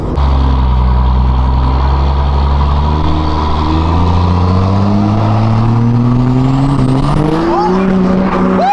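A tuned Ram 2500 truck engine, said to make about 1,000 horsepower, revs loudly and up close, its deep rumble climbing steadily in pitch over several seconds.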